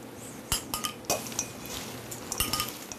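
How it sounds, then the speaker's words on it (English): Slaw being stirred with dressing in a dish, with chives and fresh mint mixed in: close clinks and scrapes of a utensil against the dish at a steady, uneven rhythm, with soft mixing between strikes. "Stir nicely, make sure combine everything together"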